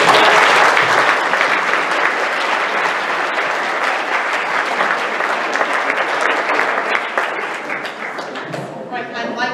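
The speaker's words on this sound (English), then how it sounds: "Let's give everyone up here a round of applause." Dense, sustained audience applause fills a legislative wrap-up gathering, steady and loud throughout with a slight thinning near the end.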